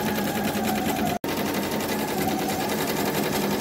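Ricoma EM 1010 embroidery machine stitching an applique, a steady close mechanical whir and rapid needle chatter running continuously, broken by one very brief dropout.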